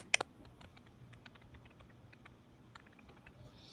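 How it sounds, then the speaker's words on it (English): Light, scattered clicks of typing on a computer keyboard, faint and a little distant, with a couple of sharper knocks at the start and no voices over it. "you gotta mute all your typing"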